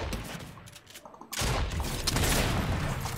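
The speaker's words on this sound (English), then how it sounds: "No, that person shot Clumbo!" Gunfire in the video game Fortnite, a quieter stretch followed by a sudden loud burst of rapid, overlapping shots that continues densely to the end.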